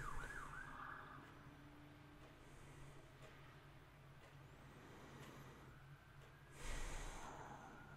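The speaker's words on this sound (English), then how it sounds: "there's sirens going on in the background" A distant emergency siren wails faintly in the background of a quiet indoor space, with a louder burst of passing traffic noise near the end.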